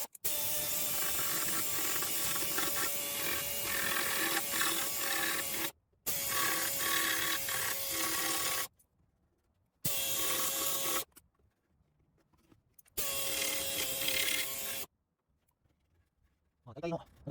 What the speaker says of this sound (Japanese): 使うのはこのベルトサンダーですね。 これを使って、ここのとんがったところをね、